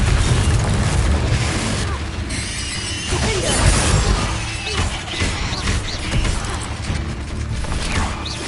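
A Confringo fire spell from Hogwarts Legacy bursts in a loud, crackling blast near the listener, followed by rumbling debris and further booming impacts that carry on through the whole stretch of game combat.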